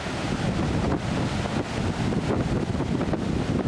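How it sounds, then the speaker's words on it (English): Big storm waves from Hurricane Ivan crash in a steady, loud roar, with strong wind buffeting the microphone throughout and no voices. "Some pretty big waves out there."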